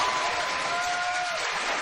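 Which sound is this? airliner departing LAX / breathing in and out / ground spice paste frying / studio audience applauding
studio audience applauding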